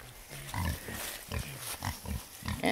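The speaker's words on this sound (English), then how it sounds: "let's hang out with some pigs that are eating their daily ration" Pigs on a farm property eat their daily ration, giving off faint grunts and steady snuffling, chewing and rustling sounds throughout, with no voices.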